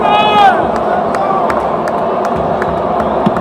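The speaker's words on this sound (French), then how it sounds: "vous invite de l'applaudir frénétiquement" A crowd at a political party launch rally cheers and applauds, a dense wash of voices and claps that stays steady throughout, with a brief singing or shouted voice at the start.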